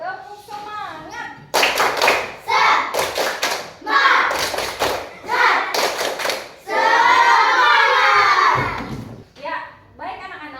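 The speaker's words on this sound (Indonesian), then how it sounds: "Sekarang untuk lebih semangat kita tepuk semangat dulu." Schoolchildren in a classroom perform a rhythmic spirit clap led by their teacher: loud bursts of patterned clapping in quick groups, mixed with chanted shouting from the class and brief adult voice between sets.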